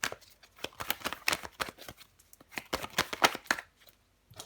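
Tarot cards shuffled and laid down on a table, a run of soft papery slaps, snaps and brushes in quick irregular bursts, close and fairly quiet, with no talking.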